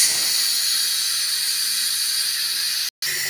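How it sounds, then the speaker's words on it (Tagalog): Steam hisses loudly and steadily from a pot of sticky rice cooked with coconut milk and brown sugar, a continuous close rush that breaks off for a split second near the end before resuming. "Pasingawin natin."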